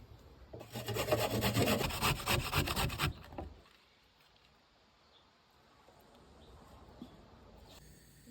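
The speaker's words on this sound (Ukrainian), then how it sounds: "дві морквинки, натираємо на крупну терку" Rapid rasping strokes of carrots scraped across a coarse grater for about two and a half seconds, then near silence with faint handling.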